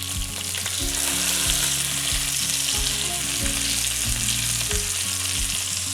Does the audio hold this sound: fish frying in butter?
yes